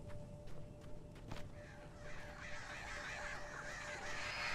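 Crows caw in the Alan Wake game, several harsh calls layered over a growing rushing wind-like wash, with scattered sharp clicks early on.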